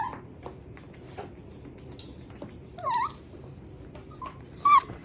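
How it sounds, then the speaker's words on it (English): A puppy lets out two high, thin whines, a few seconds apart, over a low background rustle, close and fairly clear. "I know Lester's whining. He wants back down"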